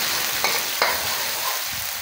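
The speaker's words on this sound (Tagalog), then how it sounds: "Haluin lang natin." Ginger and sliced garlic fry in a pan with a steady sizzle, broken by two short scraping stirs of the spoon; close and fairly loud, with no voices.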